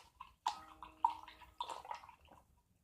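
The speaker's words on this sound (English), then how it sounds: "Give your brush a real good rinse." A paintbrush is rinsed in a water jar, giving a few short splashy swishes and clinks close by, with soft gurgling between them and quiet afterward.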